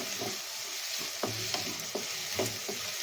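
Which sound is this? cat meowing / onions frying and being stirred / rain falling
onions frying and being stirred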